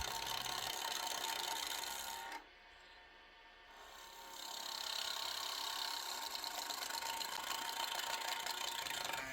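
A fire-pit wood log being turned round on a lathe with a skew chisel, a loud continuous rasping scrape that cuts out briefly for about two seconds before resuming.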